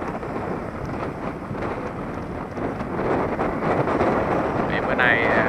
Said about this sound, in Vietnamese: giờ gió khá là mạnh